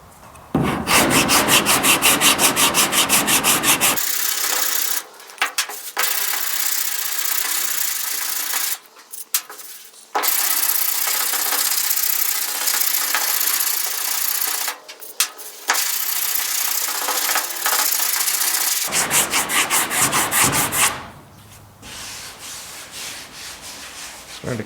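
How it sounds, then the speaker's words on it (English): Body filler on a GTO car's sail panel being block sanded with 60 grit paper on a short sanding block, giving long, loud, gritty rubbing strokes in sustained bursts separated by brief pauses. "So I've got some 60 grit here on the short block, and I've got some 100 grit on my little round Dura block."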